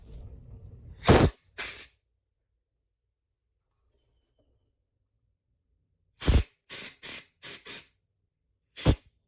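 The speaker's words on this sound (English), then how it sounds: "I'm going to use my air compressor first. Try to blow some of this off of it." Short bursts of compressed air from an air compressor blow debris out of a locked-up Singer Quantum Stylist Superb EM200 sewing machine: two hissing blasts, a pause, then a quick run of four more and one final burst, loud and close.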